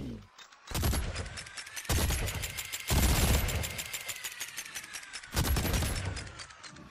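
Rapid automatic gunfire in the modded video game ARK: DinoOverhaul X, loud sustained bursts of evenly spaced shots with brief pauses between volleys, no talk over it.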